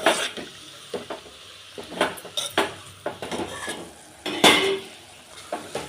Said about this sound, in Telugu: ఇలా మధ్యలో 2-3 టైమ్స్ కలుపుకోవాలండి